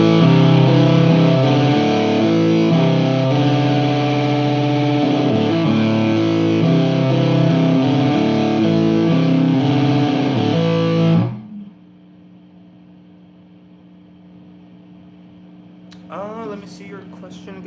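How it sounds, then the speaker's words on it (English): Electric guitar riff in the style of a rock guitarist, distorted strings left ringing into a slightly dissonant chord, loud and sustained for about eleven seconds before cutting to a low hum and faint noises. "like if you let them ring out, there's like this like little dissonant sound, and it sounds really nice"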